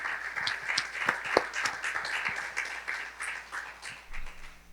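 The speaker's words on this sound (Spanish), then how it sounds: "Si tú lo quieres, dale un aplauso al Señor" A church congregation applauds for the Lord: a moderate, uneven patter of clapping with a few sharper individual claps standing out, rising and falling before thinning at the end.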